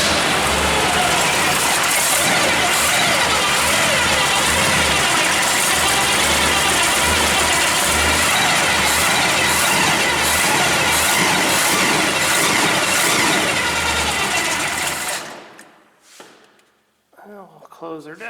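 A 1968 AMC Javelin with a 454 engine, pulled from a junkyard, starts for the first time and runs loud and rough, clattering and rattling steadily for about fifteen seconds before cutting off abruptly, leaving a few faint knocks.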